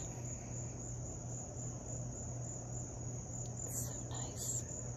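Steady, faint insect chirring, like crickets, runs continuously through an otherwise quiet outdoor scene, with a low hum underneath.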